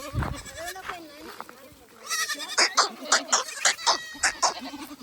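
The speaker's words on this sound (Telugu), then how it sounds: "ఇవే మనం ఇప్పుడు తీసుకొచ్చిన మేకలు." A person speaks briefly, then goats in a farm shed break into a run of quick, closely spaced bleats, fairly near and clear, carrying through to the end.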